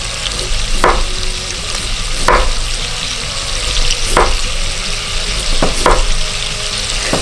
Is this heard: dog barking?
no